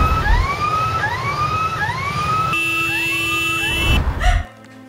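An ambulance siren wails in repeated rising sweeps over traffic rumble, shifts to a steady high tone partway through, then cuts off abruptly.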